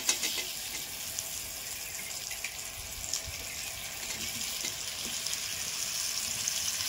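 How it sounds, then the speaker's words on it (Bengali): Pieces of raw mango, dropped into hot oil seasoned with turmeric and Kashmiri chilli powder for a pickle, give off a steady, even sizzle with a soft bubbling hiss and no voices. "এবার আমি এই আমগুলো দিয়ে দেবো।"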